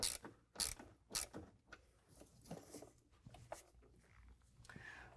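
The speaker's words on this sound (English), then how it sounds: "we'll use an 8 millimeter to tighten down the band clamp" An 8 mm ratchet clicks in quick bursts while tightening a band clamp on a silicone coupler during an S&B cold air intake install on a Ford Maverick, with sharp, close ratcheting strokes separated by brief pauses.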